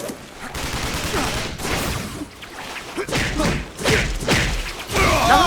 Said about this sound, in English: Nothing like being shot at to put a crimp in your webbing.